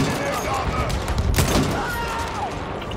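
Shotgun blasts ring out in Battlefield 1 among dense surrounding battle gunfire, with a sharp loud shot near the middle, while someone talks over the noise.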